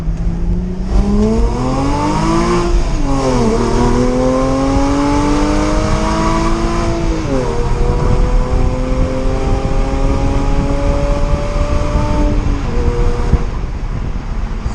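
A Porsche fitted with an Armytrix exhaust drives through a tunnel, its loud engine note rising and falling through several gear changes with steady, booming echo throughout.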